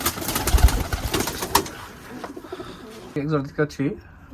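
Soft coos of pigeons for sale sound in the last second, after a burst of louder mixed noise and voices at the start.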